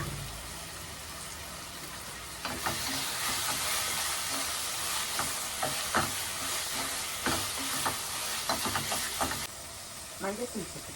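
Cooking oil heating in a pan, a broad steady sizzle that swells and stays loud for several seconds, with light clinks and stirring scrapes, then drops back near the end.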